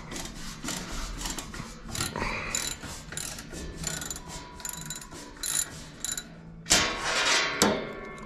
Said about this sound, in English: gonna loosen loosen the U-bolts